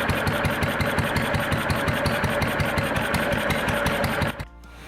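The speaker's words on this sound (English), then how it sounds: "These ones are nice and old, still look good in the old boats, sound great, and give you that classic putt-putt sound" An old Simplex inboard engine in a restored 18-foot carvel-built launch runs with a steady, rapid putt-putt beat, loud and close, then cuts off abruptly near the end.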